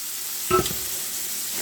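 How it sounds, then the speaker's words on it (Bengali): Hot water poured into a sizzling egg bhuna gravy gives a brief loud burst of hissing near the middle, settling back into a steady soft sizzle. "এখন আমি ঝোলের জন্য গরম জলটা দিয়ে দিচ্ছি"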